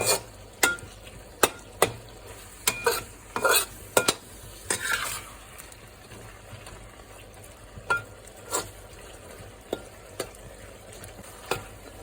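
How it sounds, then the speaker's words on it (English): A yacon (ground apple) stir fry is tossed through sauce in a hot pan, a quiet sizzle punctuated by repeated sharp scrapes and clinks of a utensil against the pan at irregular intervals. "Give everything a good mix through that sauce"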